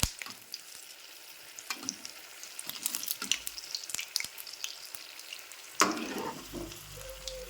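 Bajji fritters made with maida batter frying in hot oil, a steady close crackling sizzle with scattered pops and a louder burst of bubbling near the end.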